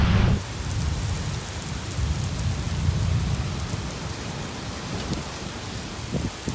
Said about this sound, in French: il y a un gros orage, c'est l'enfer